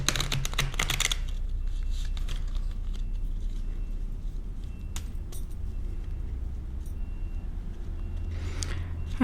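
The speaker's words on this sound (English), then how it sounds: "I'm always shuffling the cards and allowing my intuition to guide me" Tarot cards are shuffled by hand close by in a quiet room, a flurry of rapid riffling clicks at the start followed by softer, scattered card taps and rustles over a low steady background hum.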